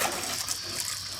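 Water from a garden hose streams steadily with a broad hissing spray, close and continuous for the whole moment, with no talk over it.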